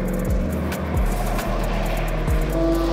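A sprint car run in an endurance race laps a track among slower cars, its engine a loud, steady roar throughout, with brief downshift sweeps and no talk.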